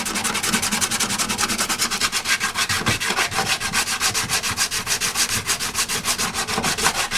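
Hand sanding on a damaged carbon fiber motorcycle track bike fairing makes a fast, steady, rhythmic scrubbing that runs continuously and loud and close, with no talking.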